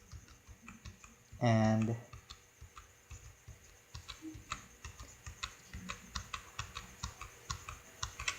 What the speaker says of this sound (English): So just use the arrow keys